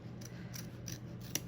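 Scissors snip fabric around an embroidery hoop, giving about five quiet, crisp cuts at an even pace against a faint background.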